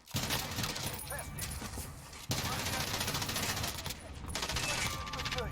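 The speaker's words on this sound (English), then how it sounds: "Now they're starting to play with the light machine guns." Sustained light machine gun fire in a shooter game, dense and rattling, broken by a sharp cut around the middle and picking up again, with someone talking over the shooting.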